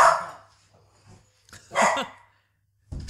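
A dog barks sharply two or three times nearby indoors, short loud yaps separated by brief quiet gaps.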